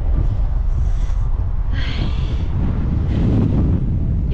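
Strong cold wind buffets the microphone in a constant loud roar with heavy low rumble and gusting swells, no voices.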